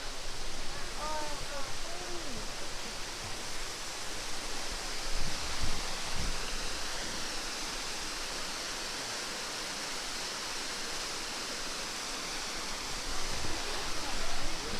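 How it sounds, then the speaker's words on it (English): Steady rushing water fills the scene, a constant broad wash like a nearby stream or small falls, with faint voices and brief bird-like chirps early on. "You can hear the water."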